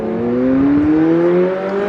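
A McLaren 765LT Spider's engine drones loudly and steadily with the roof down, its exhaust note rising gradually in pitch as it accelerates close by.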